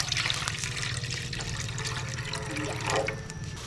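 Water runs and splashes steadily into a cooking pot for a few seconds, a continuous close pouring sound with no talking.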